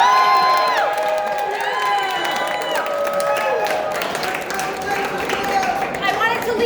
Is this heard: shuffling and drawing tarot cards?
no